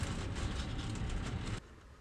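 Ambience of a moving train: a loud, steady rumble and rattle inside the carriage that suddenly drops to a quieter hum.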